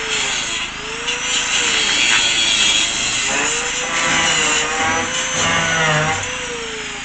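A power tool cuts through the rusty metal floor of a bus near the wall, giving a loud, continuous high grinding whine whose pitch rises and falls as the blade works, close up with no pauses.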